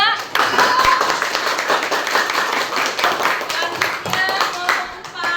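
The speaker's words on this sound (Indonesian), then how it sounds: "Oke, kita kasih tepuk tangan" Students in a classroom clap together after a group presentation, a lively burst of hand claps filling the room with a few voices mixed in.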